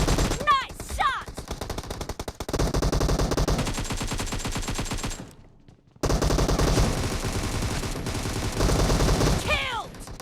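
Rapid automatic gunfire in a PUBG team deathmatch in a warehouse, with dense bursts of shots rattling almost continuously, a brief lull near the middle, then the loud firing resumes.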